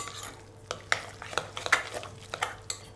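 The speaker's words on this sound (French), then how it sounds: "On mélange le tout" A utensil stirs salmon kefta mix with ras el hanout, salt and olive oil in a bowl: soft, irregular scraping and clinking taps, quiet and close, with no talk.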